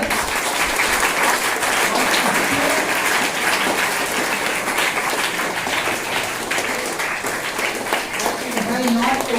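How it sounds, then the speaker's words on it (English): A classroom audience at a school biology quiz applauds a contest winner, giving a steady dense patter of clapping that holds at even loudness throughout. "So clap for her."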